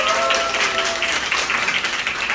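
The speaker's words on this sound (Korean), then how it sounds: "우리 다시 한번 김고은 스타님께 큰 박수 부탁드리겠습니다" An audience at a business growth seminar gives a sustained round of applause for a guest, dense and steady, with a voice speaking briefly at the start.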